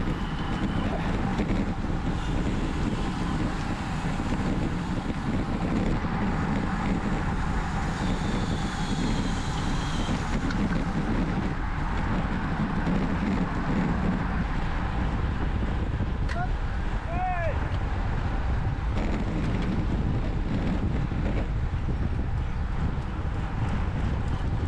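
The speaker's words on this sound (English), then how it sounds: "It was a super windy day, lap 5, few spots of rain as well" Strong, steady wind buffets the microphone on a windy day during a criterium cycling road race in the French Alps, with a continuous low roar running throughout the clip.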